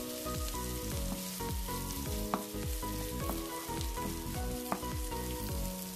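Beef rendang spice paste fries in oil with steady, close sizzling while a spoon stirs and scrapes through it in repeated rhythmic strokes, with a couple of sharper clacks against the pan.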